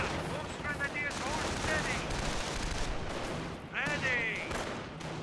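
Rapid MG42 machine gun fire crackles in Company of Heroes 1 battle, dense overlapping bursts of gunfire in a loud, continuous combat din with shots layered throughout.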